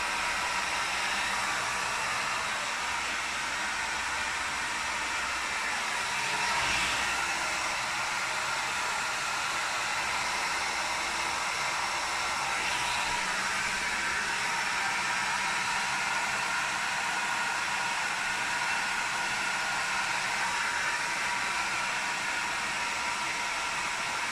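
A hair dryer blows steadily and loudly on curled hair, a continuous rushing whoosh lasting the whole stretch with only slight shifts in tone as it moves, and no talking over it.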